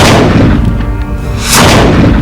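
Cannons and guns firing in a battle, a dense loud roar of booming blasts and crackling shots that swells again after a brief dip, with no voices.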